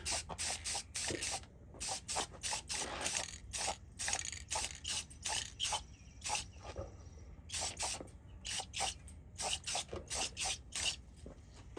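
An unshaken gray spray paint can sprays in a long series of short, sharp hissing bursts with brief gaps between them, close up and loud, during work on a Zenith 9-S-262 tube radio chassis.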